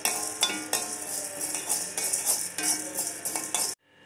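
Chana dal being dry-roasted in a pan, stirred with a spatula, giving repeated rhythmic scraping and rattling of lentils against metal with a faint sizzle, close, ending abruptly.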